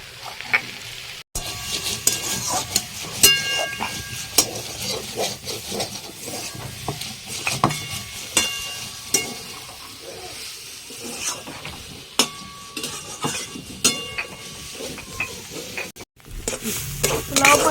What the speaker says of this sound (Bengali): মশলাটা ভাজা হয়ে গেছে এবার নাবিয়ে দেবো